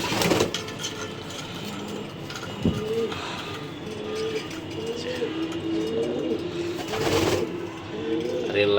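Racing pigeons in their loft keep up overlapping low cooing calls near at hand, with a few sharp knocks and a broad whooshing swell partway through.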